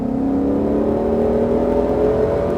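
A Ford Mustang Shelby GT500 accelerating hard on a racetrack, its engine loud and close with a steady rising drone as throttle builds, continuous with no break.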